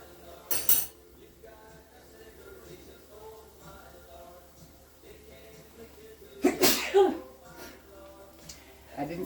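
Two sharp sneezes, a small one early and a louder one later, amid quiet kitchen clinks and soft background sounds.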